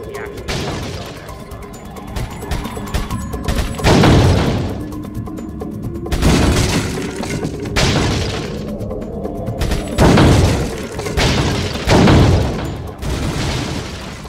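Gunfire and shattering targets at a shooting range in Resident Evil 4, with repeated loud booming shots in bursts every couple of seconds over a busy mechanical background, close and dominant.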